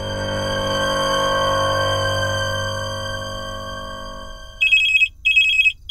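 A telephone rings loudly in a household during wedding preparations, with a few chirping electronic rings near the end after a sustained tone fades, and no talk over it.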